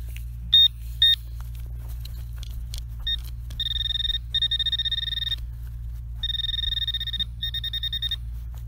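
A metal detector gives repeated high electronic beeps in short bursts, some single and some warbling in longer runs, over a steady low hum, while scanning a hole at a mid-century home.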